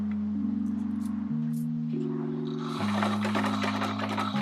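Sewing machine stitching the side seams of a hoodie toile with a changed stitch setting, a steady motor hum that shifts pitch in stepped bursts as speed changes, close and continuous with no talk.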